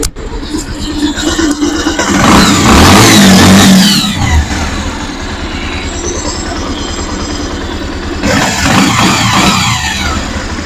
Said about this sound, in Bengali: এখন আমরা আমাদের বাজাজ পালসার বাইকটা স্টার্ট দিব, স্টার্ট দিয়ে শুনবো আমাদের ইঞ্জিনের যে সাউন্ডটা আগের মতো আছে নাকি চেঞ্জ হয়ে গেছে